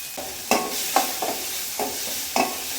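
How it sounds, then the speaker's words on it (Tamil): Onions sautéing in a pan, a soft continuous sizzle broken by about half a dozen sharp spatula scrapes and taps at irregular intervals, close and fairly quiet. "நல்லா வதங்கட்டும்"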